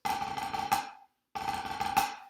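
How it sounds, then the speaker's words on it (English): Snare drum buzz roll played as a deliberately wrong example for a 9-stroke rudiment: two dense, sustained buzzing rolls, each swelling into a sharp accented final stroke, separated by a brief silence, close and alone. "We're not going to play them as buzz rolls."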